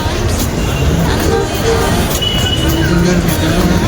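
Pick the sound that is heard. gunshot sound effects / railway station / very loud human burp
railway station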